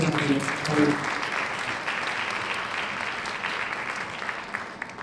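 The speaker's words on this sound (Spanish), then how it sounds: "Bienvenida, Juana, un aplauso" Audience applause welcoming a woman panelist at a women-in-power forum, a steady wash of many hands clapping for several seconds, with a voice speaking over the start.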